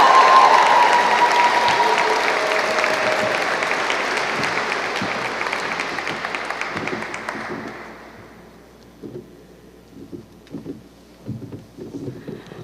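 An audience at a Eugene Lang College student-speaker ceremony applauds to welcome the speaker to the stage: loud, dense clapping for about eight seconds, then thinning to scattered claps.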